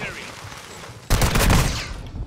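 Gunfire in Call of Duty: Modern Warfare II, a loud close burst of rapid shots erupting suddenly after a quieter stretch of game ambience and lasting about a second before fading.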